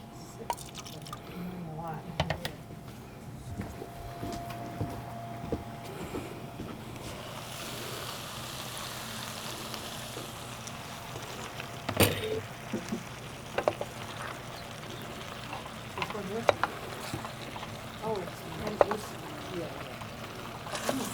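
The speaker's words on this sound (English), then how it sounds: "So I gave a little moisture in form of water so that my potatoes and cauliflower doesn't get burned." Water is poured into a pan of cooking potatoes and cauliflower during a senior-center cooking demonstration, giving soft dripping and splashing over a steady noisy background with faint voices.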